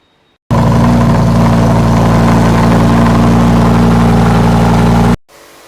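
The V10 engine of a Lamborghini Huracan Evo Spyder runs loud and close, holding a steady, deep idle-like drone for about five seconds before it stops.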